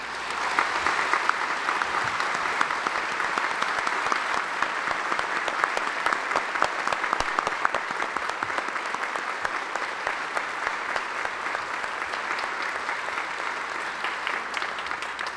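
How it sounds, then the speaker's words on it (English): Sustained, dense applause from a large audience at a NASA remembrance ceremony honoring Challenger crew families, steady and even for the full duration with no talking over it. "I'd love for us to all give them an applause."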